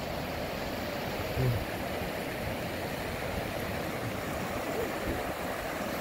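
A mountain river in Upper Manang rushes along in a steady, unbroken wash of flowing water that holds an even level from start to finish, with no voices over it.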